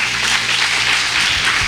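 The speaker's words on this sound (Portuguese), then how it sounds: "Aplauda bem forte ao Senhor." A church congregation applauds loudly after a sermon, a dense, sustained burst of clapping that fills the room with no speech over it.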